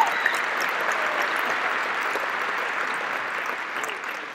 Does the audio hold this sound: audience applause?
yes